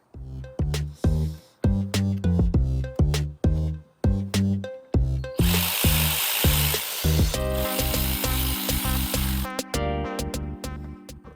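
A tool works an 18 mm bolt holding the alternator power cable on a BMW M54 engine. Close, loud, repeated rhythmic strokes run into a sustained harsh grinding whir, then more steady mechanical pulses.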